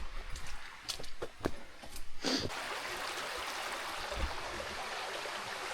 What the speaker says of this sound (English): you can just hear the water streams coming through as well